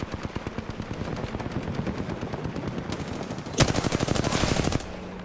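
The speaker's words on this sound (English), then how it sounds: "firing for effect" Sustained automatic gunfire from the Apex Legends video game, rapid bursts rattling steadily throughout, with a louder, denser volley near the end before it cuts off to a low hum.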